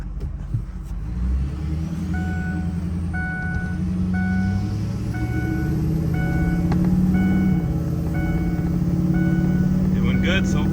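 A Ford F250 with a 6.0 Powerstroke diesel, recently revived after sitting two years, drives along with a steady engine drone rising and falling as it shifts through gears, while a repeating chime beeps in the cab and someone talks.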